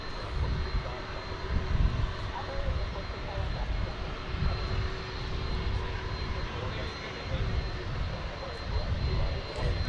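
Steady roar of a Boeing 787 Dreamliner jet departing Dallas airport, a broad continuous engine rumble with rising and falling swells, heard from a distance with faint voices underneath.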